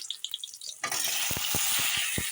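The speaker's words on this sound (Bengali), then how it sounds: "এখন আমি আলুগুলো ভেজে নেব" Hot oil bursts into a loud, steady sizzle as potatoes hit the pan, with a few light scraping stir sounds and utensil taps underneath.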